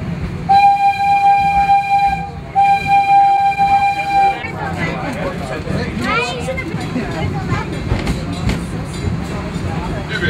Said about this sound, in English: Welcome to the Wildlife Express train.